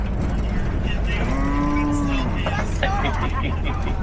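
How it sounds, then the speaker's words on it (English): Ankole cattle on the Kilimanjaro Safaris ride at Animal Kingdom: one clear, long, low moo close by, followed by softer animal sounds over the steady rumble of the safari vehicle and faint voices. "Looks like this little guy is actually taking some snacks from the cow, and these ankle cattle seem very happy about it."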